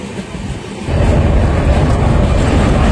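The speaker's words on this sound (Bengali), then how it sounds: "দার্জিলিং যাওয়ার সর্বকালের সেরা ট্রেন হলো কিন্তু এই দার্জিলিং মেল।" The Darjeeling Mail, train 12343 running from Sealdah to NJP, produces a loud, dense rumble heard from on board. The roar swells after the first second and then holds steady and continuous.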